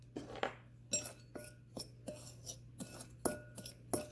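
A spoon clinks and scrapes against a bowl while walnuts, granulated sugar, cocoa powder and almond flour are stirred together, making a series of quiet, irregular taps close by.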